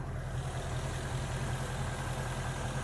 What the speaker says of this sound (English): There's that V8.